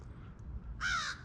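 A crow outdoors in Florida gives a loud, harsh caw near the end, followed by the start of another, over quiet low background rumble.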